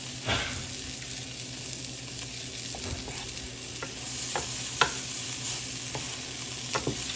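Potatoes and taro stems frying in a pan, a low steady sizzle under intermittent sharp scrapes and taps of a stirring utensil, close and fairly quiet, with no talking.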